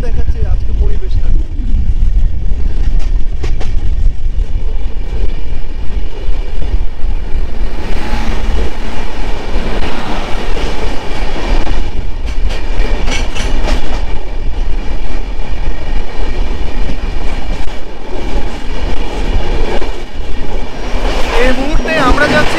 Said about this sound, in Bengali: ট্রেনের স্পিডটা মানে 100+ স্পিডে চলছে, বলা চলে এক প্রকার রকেট গতিতে চলছে।